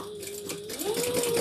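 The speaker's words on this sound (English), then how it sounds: "we're going to sew along this edge at the seam allowance in the pattern" Close, steady hum of a sewing machine running continuously, its motor pitch rising slightly as it stitches zipper lining pieces for a crossbody handbag along the seam allowance.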